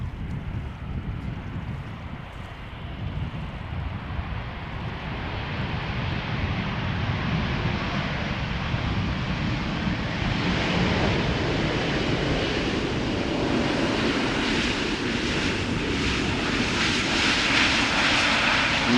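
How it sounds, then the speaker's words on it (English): A Boeing 787-8 Dreamliner arrives at Amsterdam Schiphol Airport on a humid day, its jet engine roar broad and steady, slowly building louder as it nears, with wind buffeting the microphone and no talk. "Aeromexico Flight 25 arrived from Mexico City,"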